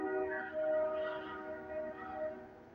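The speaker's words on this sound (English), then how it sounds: "Another train's going by." A train going by, a sustained low rumble from the rail cars with drawn-out horn-like tones, moderately loud and steady, with no speech.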